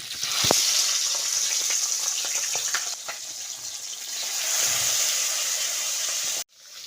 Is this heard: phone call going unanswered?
no